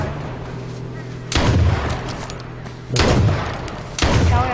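Three loud, sharp gunshots ring out in the H1Z1 survival video game, spaced about a second or more apart, each standing out boldly over a steady low game background hum.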